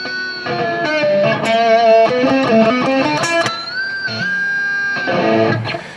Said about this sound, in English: Now an artificial harmonic sounds like this.